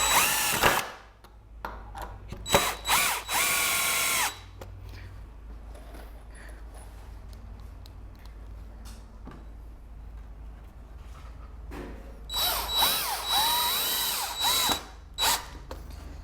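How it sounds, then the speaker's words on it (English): A power drill drives screws into pre-drilled, countersunk dry pallet wood for a smokehouse, two loud whining bursts at the start and end with quieter handling clatter between. "So I'm going to go ahead and screw these in"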